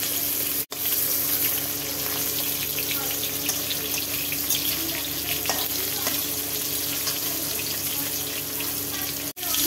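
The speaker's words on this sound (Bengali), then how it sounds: "এবারে কাঁচকলাটা ভেজে নেওয়া হচ্ছে।" Slices of raw green banana frying in hot oil while shukto is prepared, giving a steady, dense sizzle that runs unbroken near the mic, with no talk, apart from two brief dropouts.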